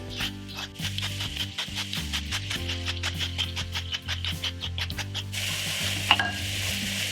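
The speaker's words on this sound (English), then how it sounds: "so in we go with the onions and the peppers. With some salt to start drawing out the moisture." Onions and peppers with a pinch of salt fry in oil in a Le Creuset pan for a vegetable chilli, giving a steady close sizzle broken by a rhythmic series of stirring scrapes over a low tonal hum.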